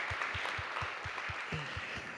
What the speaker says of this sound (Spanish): Celebre con un aplauso al Señor.